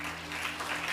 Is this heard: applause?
yes